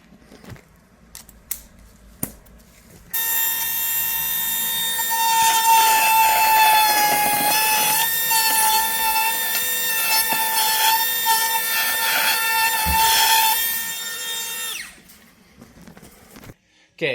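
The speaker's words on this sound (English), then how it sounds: "we just got to trim a little section out of the factory bumper right here" A power saw cuts a notch out of a factory car bumper, a loud, close, sustained whining buzz lasting about twelve seconds before stopping, with small handling noises before and after.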